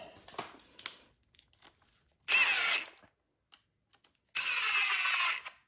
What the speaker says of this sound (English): And then we put our 2 screws back on.